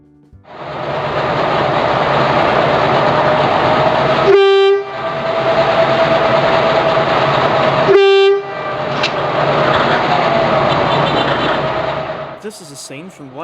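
Hunslet DSA 551 diesel locomotive running under its own power on the Goldfields Railway, a loud continuous engine roar close by, interrupted twice by sharp horn blasts.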